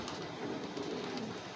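Pigeons coo softly and continuously at a pigeon seller's loft, a low murmuring drone with no speech.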